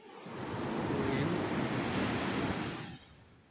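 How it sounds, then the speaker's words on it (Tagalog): Ocean surf washing onto the shore at a beach in Lobo, Batangas, a single swelling rush of water that builds and fades away after about three seconds. "Lalakas ang alon ngayon."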